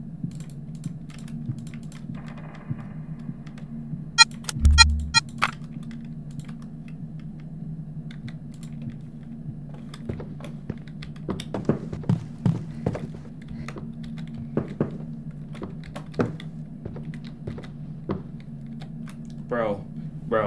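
Computer keyboard keys clack in scattered bursts and single taps while a horror game plays, over a steady low hum with occasional sharper clicks.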